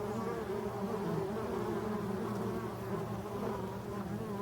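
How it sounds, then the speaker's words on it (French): Polistes wasps and bees swarm near a hive in a quiet forest setting, giving a dense, continuous buzzing hum of many insects at close range with no talking. "énormément de guêpes, de guêpes polistes"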